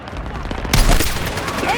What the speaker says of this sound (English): RPG's still firing